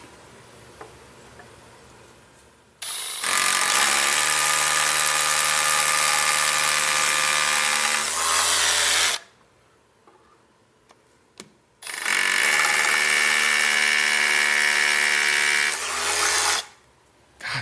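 An STS power drill whines loudly at high speed in two long bursts of several seconds each, separated by a quiet pause with small clicks, starting and stopping abruptly.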